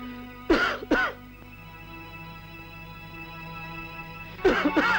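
A man clears his throat and coughs in two sharp bursts, then goes quiet over a low hum before a rougher cluster of hacking coughs near the end, close and loud.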